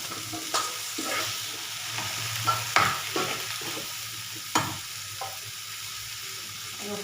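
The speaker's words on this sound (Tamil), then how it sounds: "இப்போ கட் பண்ணி வச்சுருக்கிற வெண்டைக்காயை இதில் சேர்த்துடணும்" Cut okra (lady's finger) sizzling in hot oil in a frying pan for podimas, with a steady fry hiss and several scraping stirs of a spatula, no talk.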